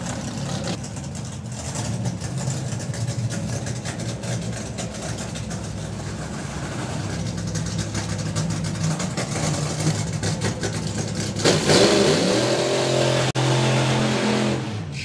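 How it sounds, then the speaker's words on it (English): A fuel drag racing car at an FIA/FIM drag racing main event revs hard and performs a burnout, a loud, close, sustained roar that swells and shifts in pitch, turning harsher and denser near the end, with no talk over it. "You can clearly hear the difference in engine pitch and burnout pitch as well."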